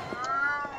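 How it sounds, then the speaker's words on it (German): A cat in the video game Alice: Madness Returns gives a single short, clear meow, close and moderately loud, with no talk over it. "Katze!"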